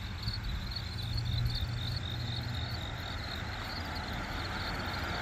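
Crickets chirp in a continuous high trill outdoors on a morning beside an abandoned Pizza Hut in Wellsburg, West Virginia, steady and moderately faint with no talk.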